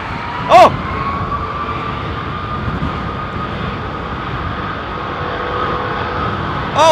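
Airliner taking off at London Heathrow Airport, its engines holding a loud, steady roar that seems to sit some distance away, with a short sharp burst near the start and another at the end.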